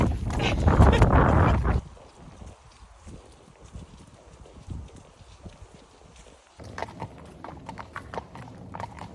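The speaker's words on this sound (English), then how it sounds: "One small kick and we're in a trot." Hooves clip-clop as the horse Seamus breaks into a trot on a countryside ride, with a loud burst of wind at the start, then soft, uneven footfalls and a speaking voice nearby.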